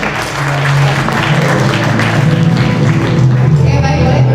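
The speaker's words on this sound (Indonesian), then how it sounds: "Boleh kita berikan tepuk tangan sekali Bapak Ibu sekalian." An audience at a panel event applauds, a loud, steady wash of clapping that holds throughout with dense, continuous claps from a sizeable crowd, with voices audible beneath it.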